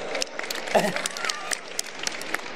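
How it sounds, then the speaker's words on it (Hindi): Audience clapping at a yoga gathering at Patanjali Yogpeeth in Haridwar, a loose, uneven patter of claps with scattered sharp hand strikes and some murmuring voices. "उसके लिए भी जोरदार ताली बजा दो अभी से"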